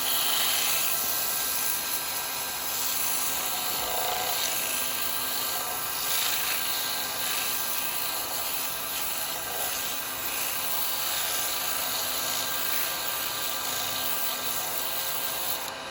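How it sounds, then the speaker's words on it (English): Wood lathe spinning a cherry almond natural-edge bowl during wet sanding, a continuous steady whir with faint rubbing and rasping from the abrasive against the wood, no talk. "Quite like wet sanding, no dust."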